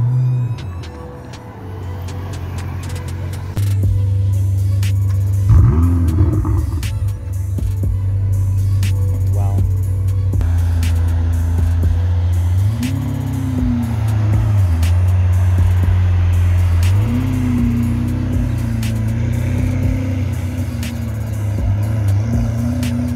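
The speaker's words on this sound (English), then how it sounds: "We have a next car coming in, a 488 GTB Spider." A Ferrari 488 GTB Spider at an Easter car meet and cruise in London, its engine rumbling steadily as it rolls past, with a couple of brief rising revs and a loud, continuous presence throughout.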